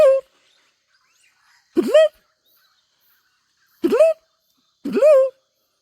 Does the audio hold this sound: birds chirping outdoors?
yes